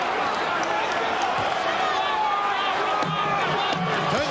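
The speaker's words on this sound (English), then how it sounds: "The crowd is on their feet here at the convention hall." A convention hall crowd at a heavyweight boxing bout between Holyfield and Foreman roars steadily on its feet, a dense wash of cheering and shouting under a commentator's voice, with faint thumps mixed in.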